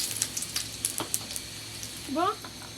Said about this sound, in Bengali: তেলে দিয়ে দিব পাঁচফোড়ন দুটা শুকনো লঙ্কা আর এক টুকরো দারচিনি